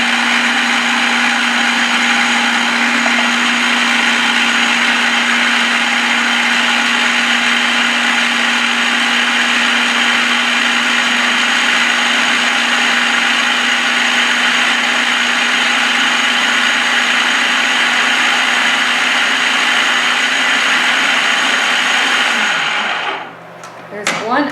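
A food processor runs steadily with onions, oil and nama shoyu inside, a loud continuous whirring blend with a strong motor hum that holds for over twenty seconds before cutting off near the end.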